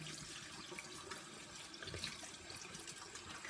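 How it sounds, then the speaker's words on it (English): A kitchen tap runs steadily as a whole raw chicken is rinsed under it, a continuous close splashing hiss with small shifts as the water hits the bird and sink. "We'll rinse all this off."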